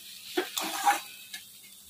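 Mung dal and ash gourd ghonto is stirred in a pan just after water is added, giving a few brief wet scrapes and a soft sizzle, close and quiet, with no speech.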